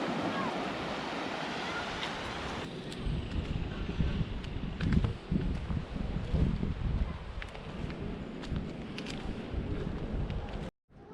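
Sea surf breaking and washing over large pebbles and big stones on a shore where children swim, a steady close roar with gusty wind noise throughout and no talk.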